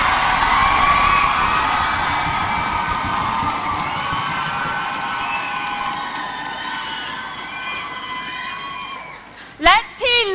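Studio audience cheering squad at a Thai singing contest show cheers and shouts in a loud sustained crowd roar with bright whoops, fading near the end before a few sharp bursts.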